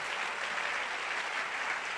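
A church congregation applauds during a French-language sermon, a steady, dense wash of clapping from many hands filling the whole moment with no talk over it.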